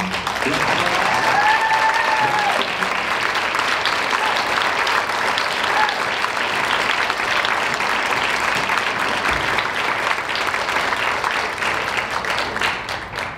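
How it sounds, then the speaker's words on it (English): A crowd at a high school evening jazz concert applauds in a long, loud, sustained wave of dense clapping, with a brief whistle early on and a few voices beneath. "So once again, please a round of applause for David Newsam."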